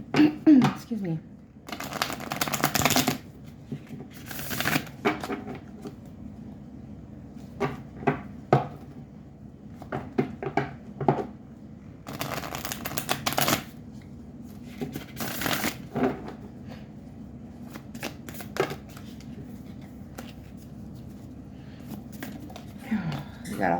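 Tarot cards being shuffled in repeated bursts of riffling and slapping, close and fairly loud, with soft handling noises and occasional quiet speech between the shuffles.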